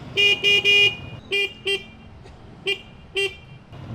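A motorcycle horn honks in short, loud beeps: three quick blasts, then a pause and four more spaced toots over a low engine idle.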